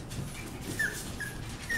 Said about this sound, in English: And there's Blossom's two puppies.